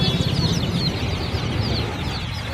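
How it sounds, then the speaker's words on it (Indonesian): Young chicks cheep continuously at close range over a dense, busy background of clucking fowl, the high calls overlapping steadily throughout. "Wah, kita menemukan anak ayam."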